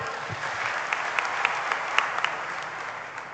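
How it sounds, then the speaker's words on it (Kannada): An audience claps for children at a book release ceremony in Hukkeri, a dense, steady round of applause with a few sharp individual claps standing out. "ಈ ಮಕ್ಕಳ ಪ್ರೀತಿಗೆ ಬರಲಿ ಚಪ್ಪಾಳೆ."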